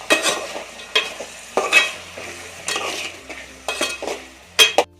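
Soya chunks (meal maker) being stirred into sautéed vegetables in a pan for a soya pulao, with repeated scraping spoon strokes over a soft sizzle, each stroke a short loud burst.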